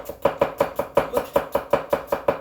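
A razor-sharp kitchen knife chops quickly on a board, about eleven crisp, evenly spaced strokes in a steady rhythm, close and clear with nothing else heard.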